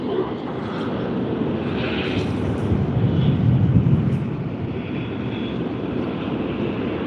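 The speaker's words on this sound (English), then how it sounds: "It's the nice Airbus A380." A Singapore Airlines Airbus A380 at Sydney Airport, a loud, steady jet roar that swells slightly mid-way, with broadband rumble and a faint airy whine on top, heard alone.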